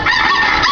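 A loud, close rooster crow sound effect, a single short burst with a strained, raspy tone.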